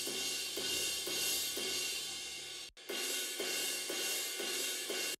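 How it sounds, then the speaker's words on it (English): A deep ride cymbal in a pop punk drum mix, raw with no EQ or processing, rings in a steady wash of bright shimmer with repeated strokes, briefly cutting out near the middle before continuing alone. "If I take all the EQ and processing off, it sounds like this."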